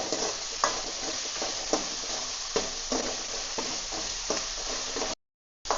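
Onions and tomatoes sauté in oil with a constant, even sizzle, broken by periodic soft stirring scrapes, then a brief drop to silence near the end.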